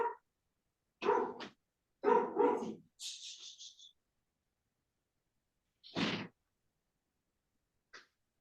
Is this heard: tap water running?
no